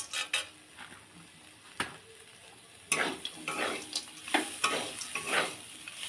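Cumin and roasted peanuts are stirred in a hot pan for a vegetable samosa filling, with a soft sizzle beneath intermittent scraping and clinking of the spoon against the pan, close and fairly quiet.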